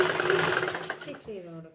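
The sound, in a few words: sewing machine stitching a nightie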